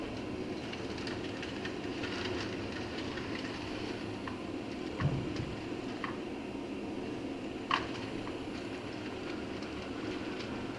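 Steady rumbling rail noise of a model train, the northbound Rio Grande, running along the track of a layout, with a few faint clicks and squeaks over a constant hum.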